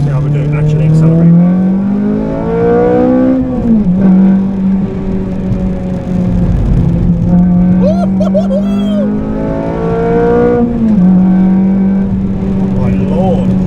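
A supercharged Honda Civic Type R FN2 with a K24 engine accelerates hard, its engine note climbing and pausing through gear changes, loud and close, with people talking over it.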